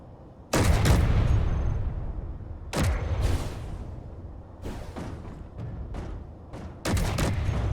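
Ship weapons in the Space Engineers game fire in loud, booming bursts. A heavy barrage opens, then separate salvos and rattling volleys follow close together. No one speaks.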